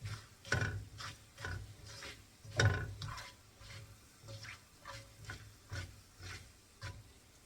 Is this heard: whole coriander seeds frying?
yes